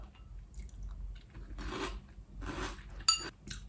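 Close, crisp crunching of high-protein cereal in almond milk, coming in several bursts of chewing with small clinks of a spoon against the bowl.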